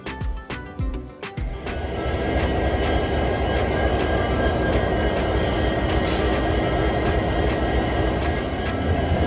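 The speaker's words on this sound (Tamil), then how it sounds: "ஸோ இன்னைக்கு நம்ம ஹால் பண்ணுற locomotive KJM WDP-4 20062 and twins." A passenger express train hauled by a WDP-4 diesel locomotive rolls along with a steady, loud rumble and rattle after a few early clanks, continuous and close.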